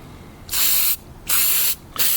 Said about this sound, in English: spray on all my gaskets from this point forward on both sides so they don't stick